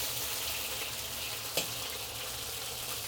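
Sesame-crusted beef fries in a wok with a steady, dense hiss and crackle, close and loud, with a single sharp clack partway through and no talking.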